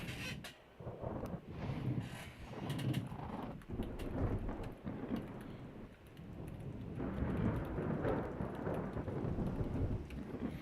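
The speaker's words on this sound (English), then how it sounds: "It's a storm." Thunderstorm with steady heavy rain in the Ultimate Admiral Dreadnoughts naval game, a continuous loud wash of rainfall with deep rolling thunder rumbles swelling throughout, no voices.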